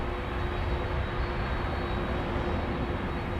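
Airplane taking off from a runway at Minneapolis–Saint Paul airport, heard as a steady, loud broadband engine roar with a constant low rumble throughout, no voices.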